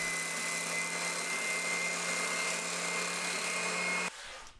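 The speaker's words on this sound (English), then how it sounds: "Inside curves, I'll use my spindle sander." Spindle sander smoothing inside curves on a wooden flag breadboard with curved joinery: a steady, loud whirring drone with a constant hum that runs unbroken, then drops abruptly near the end as the machine is cut off.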